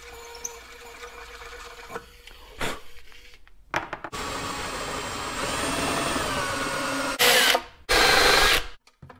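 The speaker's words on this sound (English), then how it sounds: "It's a tiny little drill." A tiny drill bores into the lid of a DIY LiFePO4 12V battery case, whining close and loud in several bursts of a few seconds each, with quiet gaps and small handling clicks between them.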